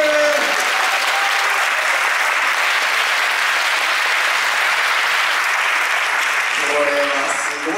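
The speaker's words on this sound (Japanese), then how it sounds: "拍手。" Sustained applause from a large crowd at an Ingress XM Anomaly after party in Yokohama, steady and loud throughout, with a few faint voices briefly audible near the start and end.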